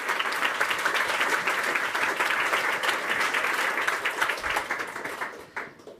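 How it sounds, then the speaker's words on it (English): Warm audience applause at a Happy Workplaces conference talk, a dense, sustained rain of clapping from a sizeable crowd that fades out gradually toward the end. "let's give a warm round of applause for Jennifer"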